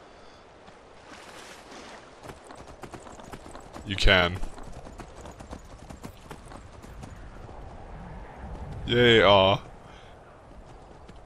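Horse hooves clip-clop in a steady galloping rhythm in the video game Skyrim, running under a player's talk and two brief bursts of voiced exclamation.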